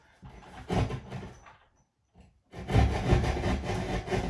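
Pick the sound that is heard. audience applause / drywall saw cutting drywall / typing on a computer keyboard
drywall saw cutting drywall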